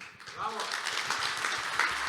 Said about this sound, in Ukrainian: Ці оплески для вас.